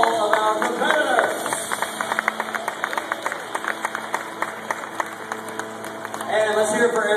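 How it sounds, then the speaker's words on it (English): Studio audience at a Fear Factor competition applauding the competitors, steady clapping and cheering with some crowd noise, a voice briefly audible near the start and end. "Let's get a big round of applause for all of our competitors."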